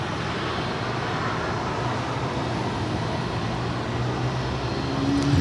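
A Delta Airlines Boeing 737-900ER at LAX produces a steady, dense jet engine roar, broad and unbroken throughout, building slightly louder toward the end.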